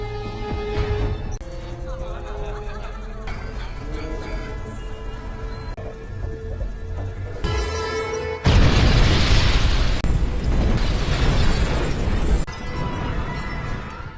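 A loud, broad explosion from a trap in a film bursts in midway through a busy cinematic soundtrack, a dense roar that holds for several seconds before easing back into the background music and effects.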